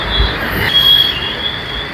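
A Bangalore metro train running, heard from inside as a loud, continuous rumble of wheels on rail with a steady high metallic squeal riding over it throughout.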